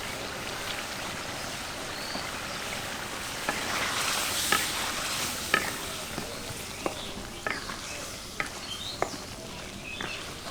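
Hilsa fish frying in a pan with taro stem curry, a steady low sizzle punctuated by scattered sharp utensil clicks and taps.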